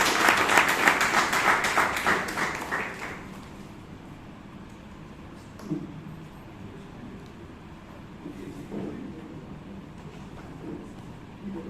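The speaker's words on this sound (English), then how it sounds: "With a big round of applause, ಜೋರಾದ ಚಪ್ಪಾಳೆಯೊಂದಿಗೆ ಸ್ವಾಗತಿಸೋಣ Toastmaster." An audience at a Toastmasters club meeting in Bangalore bursts into dense applause for about three seconds, then it fades to a quiet room with faint rustling and murmurs.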